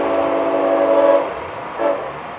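Florida East Coast train 701 running southbound at 90 mph across a road crossing, a loud, close horn blast holding for about a second before dropping, then a brief second toot over rushing rail noise.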